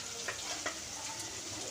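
Potatoes, onion stalks and fish oil frying together in a pan give a steady, faint sizzle with a few soft crackles and stirring sounds throughout, with no voices.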